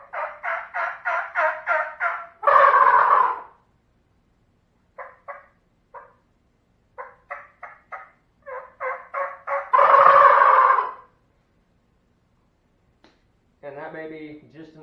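Shake-style turkey gobbler call produces rapid, rattling gobbles in several bursts, loud and close, with pauses of silence between them and a shorter, softer burst at the end.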